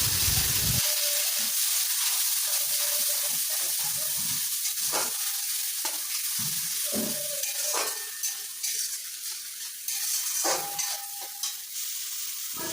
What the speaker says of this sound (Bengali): কারি পাতাটা একটু ভাজা হয়ে গেলে তারপর বেটে রাখা মশলাটা এর মধ্যে ঢেলে দিতে হবে